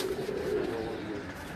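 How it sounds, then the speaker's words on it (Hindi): A blue Kashmiri pigeon coos softly in a steady, continuous low murmur, fairly close, with light background noise and no talking. "कश्मीरी कबूतर है, बहुत अच्छा कबूतर है, नीला कबूतर है जी।"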